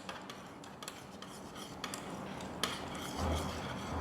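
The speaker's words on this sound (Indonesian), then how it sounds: "kemudian kembali kita aduk campuran tersebut" Spoon clinking and scraping in a container while an oil, water and egg yolk mixture is stirred, a soft steady rubbing with small metallic ticks, close and fairly quiet.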